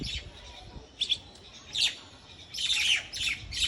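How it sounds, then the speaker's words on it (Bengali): A myna calls near water with several bright, chirping bursts spread across a few seconds, rising and falling over a low, steady background hum. "এটাতে কি পাখি পাচ্ছেন? শারক? শারক মনে হয়।"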